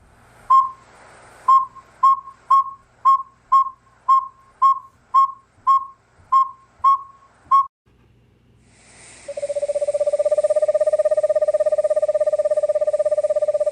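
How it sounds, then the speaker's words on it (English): Recorded owl calls: a run of about eleven short, evenly spaced hoots, then after a pause a long sustained tonal call holding steady to the end, loud and close with no background. "I have some sounds here for you to hear. I'll show you a picture of the owl that makes it,"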